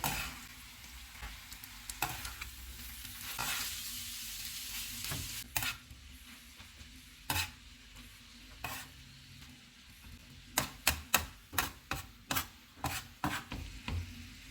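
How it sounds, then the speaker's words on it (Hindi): Onion, tomato and spice masala frying in a pan with a soft sizzle while a spatula stirs and scrapes, the strokes growing into a quick rhythmic series of clanks. "टमाटर, सारे मसाले डालेंगे, इनको मिक्स करेंगे।"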